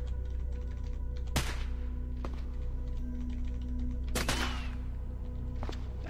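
Sharp pistol-like gunshot cracks from the video game Cataclysm DDA, a few spaced apart over a steady low hum, including a pair of close shots in quick succession.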